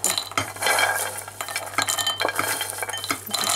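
Peanuts scraped and rattled around a pan with a utensil, steady stirring with a faint sizzle, close by and fairly loud, no talking.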